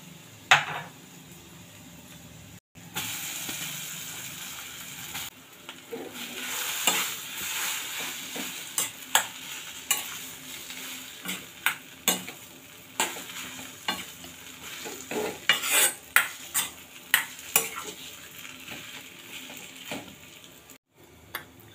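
Boiled grated potato being stirred with cumin, green chilli and spices in a kadhai: scraping spoon strokes and faint sizzling, with clusters of sharper clinks against the metal building in the middle and later stretches, no voices.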